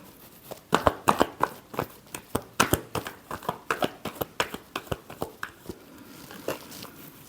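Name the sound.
tarot cards being shuffled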